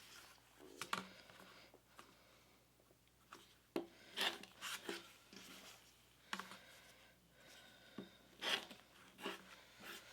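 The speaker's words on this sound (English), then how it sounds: "I'm just going to take my ruler and I'm going to trim off these corners" A cutter run along a ruler trims fabric corners for a pumpkin table topper, making quiet, separate rasping slices in short bursts spaced a few seconds apart, close and soft.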